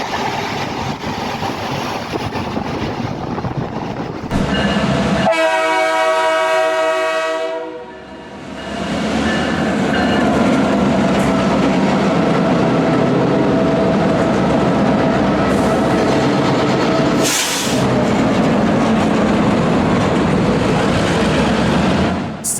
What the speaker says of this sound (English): Waves crash over the seawall at Dawlish as the London Penzance train pushes straight through seawater.